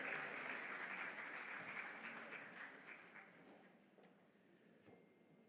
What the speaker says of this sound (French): On l'applaudit jusqu'à ce qu'il arrive